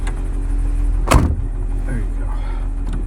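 Heavy door of a 1956 Mercedes-Benz 300Sc coupe swung shut with a single solid thump, set over a steady low background rumble.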